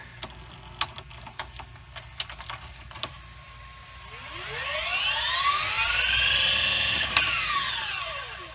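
A Panasonic PV-V4621 VCR with a faulty brake and gunk on its belt pad rewinds tape. Its motor whine rises and then falls in pitch, following a few mechanical clicks close by.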